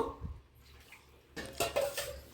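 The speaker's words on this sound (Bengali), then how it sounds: "আমি আর একটু জল দিয়ে দেবো" Water is poured into a jackfruit and chicken mince curry in a pot, a brief soft splash and trickle near the end after a quiet start.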